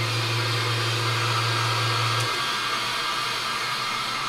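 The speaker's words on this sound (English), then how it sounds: "Hit it with the hair dryer." A hair dryer blows with a steady, loud, close whoosh, with a low hum that drops away partway through, drying custom paint on a Kyosho Tomahawk RC car body.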